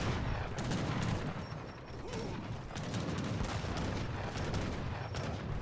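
Heavy cannons fire in a match of Age of Empires III: Definitive Edition, a run of sharp booms and clanks amid busy battle mechanisms, steady and dense throughout with no speech.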